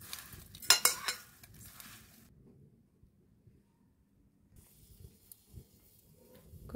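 Soybeans mixed with salt, turmeric and chili powder are stirred in a pot, making a brief burst of close scraping and rustling near the start. Near silence follows, with a few faint clinks.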